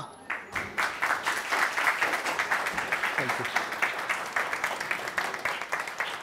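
Newsroom staff clapping to welcome war hero Captain Akhilesh Saxena, a steady run of fairly quick, evenly spaced claps from a small group, moderately loud and close.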